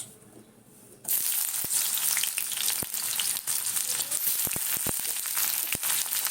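Onions hit hot oil in a pan for a papaya dish, bursting into a loud, steady sizzle after a quiet second, with occasional sharp clicks of a utensil over the frying.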